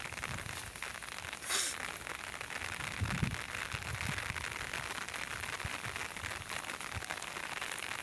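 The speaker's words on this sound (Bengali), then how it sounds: "আবার বৃষ্টি শুরু হয়ে গিয়েছে।" Steady rain falling on grass in open farmland where sheep graze, a faint, even hiss of drops continuing throughout with a brief rustle partway, distant and soft, no voices.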